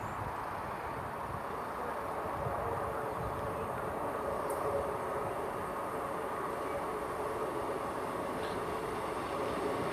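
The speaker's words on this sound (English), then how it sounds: "Now arriving into Cardiff Central, into Severn Tunnel Junction, is the 1111 Great Western Railway service to Cardiff Central" A Great Western Railway Class 158 diesel unit, the service to Cardiff Central from Frome, arrives at Severn Tunnel Junction with a steady, broad rolling rumble and engine drone that stays fairly close and even throughout.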